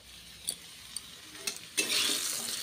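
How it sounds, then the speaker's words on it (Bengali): Potatoes frying in a pan for a Bengali meat curry, a few scattered stirring clicks and soft scrapes that give way to a louder, steady, close sizzle in the second half. "আলুগুলো একটু ভালো করে লাল লাল করে ভেজে দিই চাপা দিয়ে"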